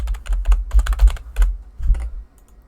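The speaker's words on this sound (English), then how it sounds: "I'm just going to type my IP." Rapid, irregular keystrokes on a computer keyboard as an IP address is entered, crisp clicks close up in short bursts with brief gaps, alone without talk.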